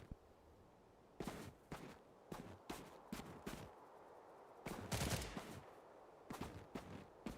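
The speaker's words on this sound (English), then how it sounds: "Who was shooting at me?" Bursts of gunfire from STALCRAFT: X crack out at irregular intervals, single shots and short rapid volleys, fairly distant and quiet with a faint background hum between them.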